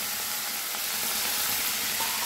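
Water poured onto spice paste frying in a pan for hotel-style egg curry gives a steady, close, broadband sizzle with a faint bubbling edge, running evenly and loud without pause.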